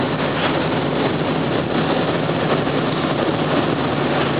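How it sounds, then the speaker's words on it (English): A 1998 Dodge Ram 2500 SLT Laramie 4x4 pickup engine heard from inside the cab while driving on a road, a steady loud broadband drone with low rumble and no talk. "This is a nice road to rev up the engine."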